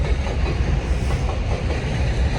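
A train rolls past close by with a continuous loud rumble and rattle of carriages on the rails, steady throughout the brief stretch.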